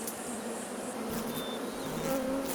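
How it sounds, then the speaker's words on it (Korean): Honeybees swarm around their nest in a hollow, centuries-old tree in the Jirisan mountains, making a dense, steady buzzing drone that stays close and continuous throughout, with no voices. "여름 내내 지리산을 누비며 여름 농사 잘 지었던 꿀벌들입니다"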